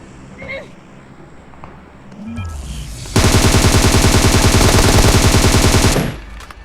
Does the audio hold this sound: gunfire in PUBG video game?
yes